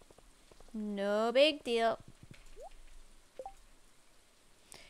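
Soft, steady rain patters and drips across the farm in Stardew Valley, faint and continuous beneath a short burst of speech.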